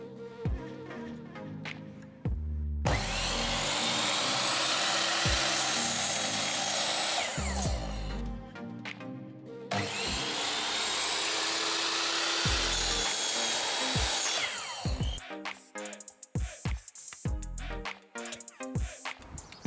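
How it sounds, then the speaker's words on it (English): Reclaimed wood being cut at a 45-degree angle with a power saw, two long loud whining cuts separated by a brief pause, followed by clattering and knocks as the pieces are handled. "I'm going to cut it at a 45-degree angle so I can frame this whole base"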